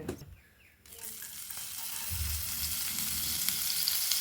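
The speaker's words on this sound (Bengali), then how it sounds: "তারপর ঢেলে দিচ্ছি একটু লঙ্কা কুচি" Chopped green chilli and whole cumin frying in hot oil and butter in a kadai, a quiet start giving way to a steady hissing sizzle that builds and continues with light stirring.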